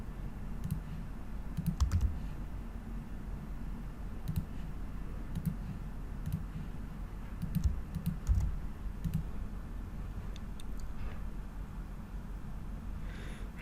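Someone types a server username and password on a computer keyboard, giving bursts of light, irregular key clicks close by over a quiet background hum.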